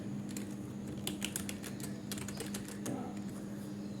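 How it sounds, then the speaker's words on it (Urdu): Keys clatter on a computer keyboard in quick bursts of clicks with short pauses, close and fairly quiet over a low steady hum. "آج کے اس لیسن میں ہم ABC کو ٹائپ کرنا سیکھیں گے۔"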